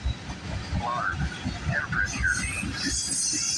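CN M302 freight train rolling past at night in Charlotte, Michigan, with a low rumbling of wheels, rhythmic clatter, and intermittent squealing tones from the cars, heard at moderate distance under a steady background.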